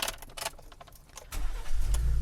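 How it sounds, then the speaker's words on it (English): A 2020 Ford F-150 Raptor pickup is started with a flip key: a jingle of keys and clicks, then the engine cranks and catches into a low, steady idle near the end. "Let's start the car up."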